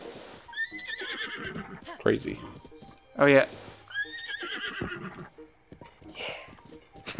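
A horse in the video game Breath of the Wild gives loud whinnies and snorts, with hoof clip-clop in between, while a player talks over it.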